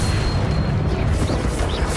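A Confringo fire spell explodes in Hogwarts Legacy on PS5, a heavy rumbling boom with a dense low roar that stays loud for about two seconds.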